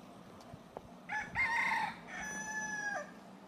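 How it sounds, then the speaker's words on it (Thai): A white bantam chicken crows nearby in a short, piercing call lasting about two seconds, followed by a second drawn-out crow over faint outdoor background noise. "มีไก่แจ้ขาวๆอ่ะไก่แจ้ตัวเตี้ยๆแย่ๆเลย"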